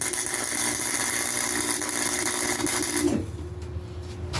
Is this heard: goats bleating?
no